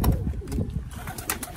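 Several pigeons coo in low, throaty murmurs, overlapping continuously at close range, with a few faint chirps above.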